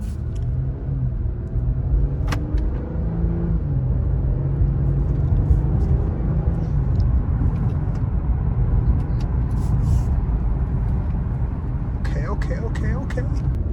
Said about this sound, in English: I just wanna do a quick test drive